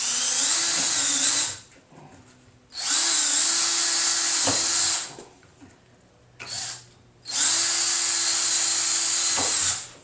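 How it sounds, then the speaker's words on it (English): A power drill bores alignment holes into a fiberglass nose cone mold in three loud, sustained bursts of a few seconds each, its high whine steady through each run, with brief quieter pauses between. "We're going to go ahead and drill it real fast here."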